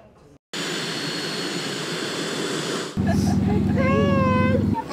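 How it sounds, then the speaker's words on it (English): Aircraft engine noise at the Gator Fly-In, a steady loud drone that cuts off and gives way to a louder, harsher engine roar with a rising tonal whine, no talking over it. "Planes and helicopters of all sizes."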